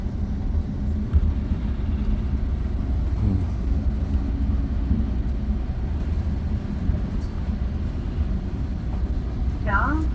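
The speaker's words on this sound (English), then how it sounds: "That train's moving." A commuter train rolls along the track in winter, producing a steady low rumble and hum that holds evenly throughout, with faint voices in the background.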